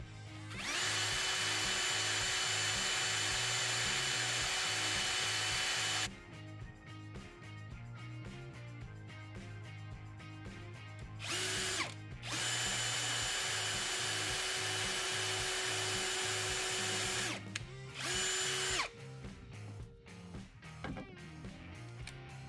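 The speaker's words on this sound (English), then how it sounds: "Now we're gonna drill out the holes." A Ryobi cordless power drill whirs loudly in long sustained bursts, boring pilot holes into wood, with short pauses and a few brief stop-start runs near the end.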